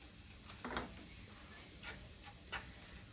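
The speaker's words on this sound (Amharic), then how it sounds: "ሽንኩርቱንና ሽንኩርቱን እየጠበስኩኝ" Onions frying in a pan for an Ethiopian rice, vegetable and cabbage dish: a faint, steady sizzle with a few soft clicks and scrapes of stirring.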